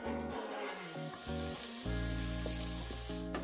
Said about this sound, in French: on va faire revenir nos échalotes et l'ail dans du beurre bien mousseux.